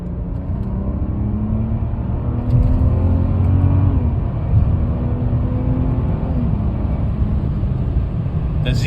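A Range Rover with a ZF transmission accelerates hard on a road, engine droning loud and close as the pitch climbs steadily through smooth gear shifts, with no talk over it.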